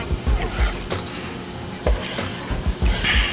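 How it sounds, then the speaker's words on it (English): Melted butter bubbles and simmers in a pan for candied yams, a soft, steady sizzle with small irregular pops and crackles, fairly close and without talk. "the butter's melted here. And you can see it bubbling up here"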